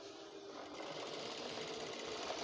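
A sewing machine stitches the welt pocket of a pair of men's trousers, with a steady, continuous mechanical whir throughout and no pauses or talking.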